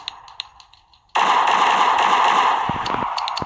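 Automatic gunfire from a 3D weapons addon in Minecraft, starting with a few light clicks and then bursting into a loud, continuous rapid-fire rattle that runs to the end, heard without speech.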